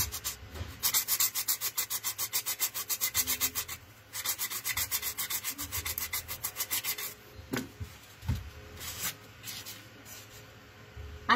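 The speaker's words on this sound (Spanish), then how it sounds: "Acá solo estoy tallando para dejarlo bonito" Carving and smoothing a foam doll's face by hand produces fast rhythmic rasping strokes, steady bursts of scraping that pause briefly, then give way to slower scattered rubs and scrapes.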